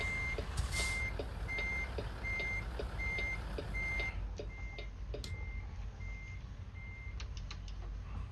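Steady, evenly spaced reversing beeps from a truck in American Truck Simulator, repeating about once every half second over a low engine rumble, alone without talk.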